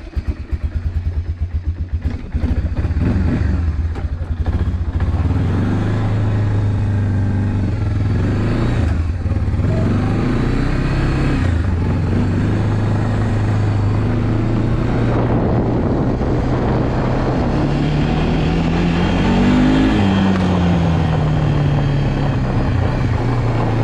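A Honda FourTrax 300 ATV engine runs loud and close while riding, its revs rising and falling over a steady rumble, with several surges and drops.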